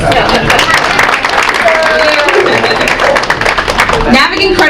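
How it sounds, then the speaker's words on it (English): A community gathering responds with a round of applause, dense clapping mixed with crowd murmur and voices, loud and continuous throughout. "Round of applause."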